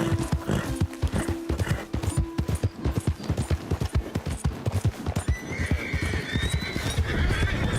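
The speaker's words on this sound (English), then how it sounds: "Just running with the horses." Rapid hoofbeats pound steadily as horses gallop in the video game Red Dead Redemption 2, with a horse whinnying near the start and a high trailing whine later.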